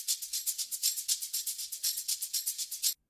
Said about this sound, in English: This is the shaker loop.